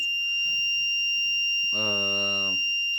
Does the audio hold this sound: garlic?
no